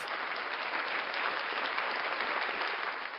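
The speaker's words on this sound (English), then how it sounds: "Round of applause for Leland Squirrels" Steady, fairly faint applause with dense clapping throughout, heard alone with no voices.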